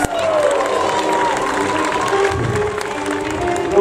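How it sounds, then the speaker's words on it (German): A crowd cheering and calling out for Princess Amelia at a medieval knights' tournament at Burg Sommeregg, with mixed shouts and voices spread across a lively open-air audience. "Jubel für Prinzessin Amelia."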